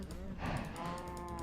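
Cows mooing in the Minecraft video game: a single drawn-out, close moo lasting most of the moment, with no talk over it.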